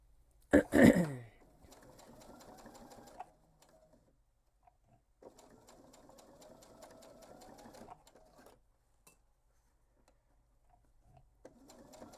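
A sewing machine stitches a backpack in short bursts of rapid mechanical chatter separated by quiet pauses, after a sharp louder clunk at the start.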